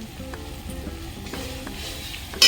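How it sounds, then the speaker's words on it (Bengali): Spices with Kashmiri chili powder fry and sizzle in oil for a country chicken curry, a steady close crackle with light clinks of a stirring spoon and a sharper hiss near the end. "এখন সুন্দর করে মশলাটাকে আমি কষিয়ে নেব"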